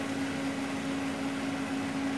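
An HP LaserJet 1320 printer under repair, with a fatal error, powers on: a steady, even mechanical hum with a clear constant tone runs unbroken throughout, close and moderately loud.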